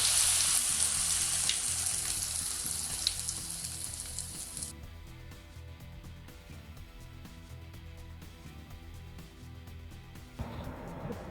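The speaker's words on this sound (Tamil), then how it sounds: "அது கடலை எண்ணெய்ன்றனால நல்லா இப்படி பொங்கி வருது எண்ணெய்" Batter fries in hot, bubbling peanut oil in a kadai for Burmese roadside moinga, giving a loud, dense hiss that drops abruptly to a quieter, steady crackle before flaring up again.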